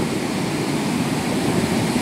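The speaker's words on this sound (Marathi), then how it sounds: "समुद्राच्या लाटा मोठ्या प्रमाणात वाढल्या आहेत, समुद्र खवळला आहे." Rough, stormy sea at Ganpatipule on the Konkan coast sends waves crashing against the shore by the temple, a loud, continuous surf roar with no voices.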